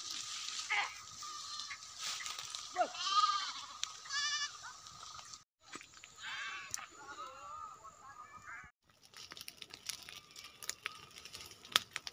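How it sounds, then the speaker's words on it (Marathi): Goats bleating in a sugarcane field, where they are penned after the dry cane trash is burned; repeated loud, close bleats over about five seconds, then more calls and rustling farm noise, with no talk. "इकडे बघू शकता बकरी, रौंदा वगैरे जाळून बकरी बसवली जातात उसात"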